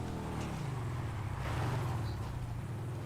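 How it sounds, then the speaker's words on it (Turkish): A motorcycle engine in GTA Online hums at low pitch, steady and moderately faint, with a slight swell midway. "Senin motor sesi çok güzel geliyor yalnız ha."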